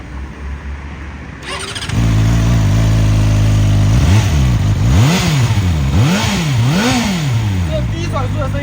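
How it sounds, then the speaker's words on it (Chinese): A KOVE 450RR motorcycle engine starts and settles into a loud, close low-rpm rumble, then throttle blips repeatedly swell and fall in rolling waves. "这低转速的声音"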